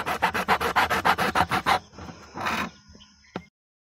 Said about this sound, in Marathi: सर्वात अगोदर याला व्यवस्थित असं कट करून घ्या